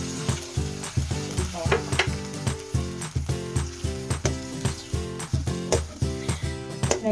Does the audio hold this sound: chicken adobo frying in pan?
yes